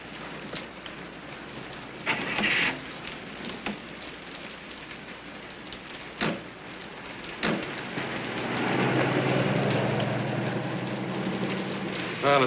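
Rain falls on a city street at night, a continuous wet hiss with scattered louder splashes and knocks, swelling slightly toward the end.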